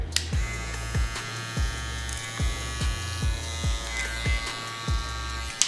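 A BaBylissPRO LimitedFX Boost+ electric hair clipper buzzes steadily up close, with a rhythmic pulsing about twice a second over its constant hum.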